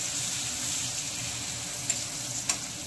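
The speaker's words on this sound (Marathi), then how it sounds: "आता यामध्ये लसूण जिरा अद्रकचा पेस्ट घातलेला आहे. त्याला मस्त असं होऊ द्यायचं." A paste of garlic, cumin and ginger sizzles in hot oil for a dal tadka, making a steady close hiss with faint crackle. Two brief clinks of a utensil break in near the end.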